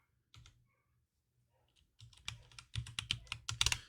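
Someone types an administrator password on a computer keyboard: a couple of isolated key taps, a pause, then a quick run of close, crisp keystrokes that grows denser toward the end.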